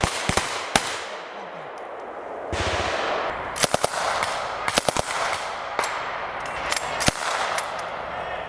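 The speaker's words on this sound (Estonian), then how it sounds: "Ühtäkki kostus hüüe vastane teel ning metsavaikuse katkestasid püssilasud." Rifle shots crack out in a wooded area during a military field training exercise, a few sharp reports spaced irregularly with a quick double burst, loud and close over steady outdoor background noise.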